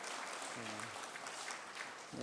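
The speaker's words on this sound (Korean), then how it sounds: "우리 박수로 한번 환영하시겠습니다." Congregation at a Sunday worship service in a New Jersey Korean Presbyterian church gives a round of welcoming applause, a steady, fairly faint wash of clapping with brief voices murmuring through it.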